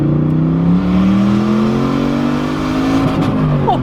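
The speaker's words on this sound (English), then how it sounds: "This car has a turbocharger smacked onto it, and it is absolutely ballistic. Listen to that sound." A turbocharged LS-powered Holden Commodore SS engine, making 436 kilowatts on 98 octane fuel, revs loud and close, its deep tone rising and falling as the throttle is worked, with no talk.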